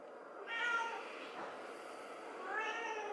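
A pet cat meows twice indoors, the first call drawn out and the second shorter near the end, both close and clear over a quiet room.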